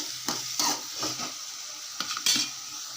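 Black-eyed peas being stirred in a pan, with rhythmic spoon scrapes against the metal over a light frying sizzle, close and fairly loud, no talking.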